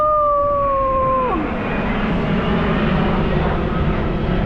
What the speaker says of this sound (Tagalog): Ayun yung eroplano, ang laki